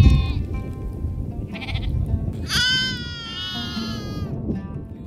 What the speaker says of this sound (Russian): Среди них и каракульские овцы.